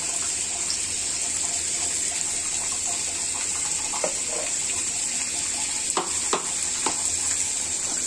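Panch phoron and black cumin fry in hot oil with a steady bright sizzle, broken by a few sharp spatters and stirring clicks near the end, close up with no talking.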